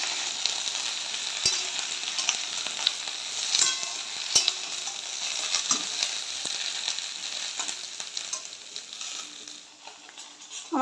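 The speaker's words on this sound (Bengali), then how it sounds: "আমার সবজিটা বেশ ভালো করে ভাজা হয়ে গিয়েছে, বেশ খানিকক্ষণ আমি ভেজে নিয়েছি" Vegetables fry in a pan of oil over a low gas flame for a simple vegetarian dish, giving a steady close hiss with occasional stirring clicks throughout and no talking.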